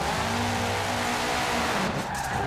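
Tires squealing from a 2005 Subaru WRX STI drifting in Forza Horizon 4, a loud continuous screech over engine roar that holds steady and then tapers slightly near the end.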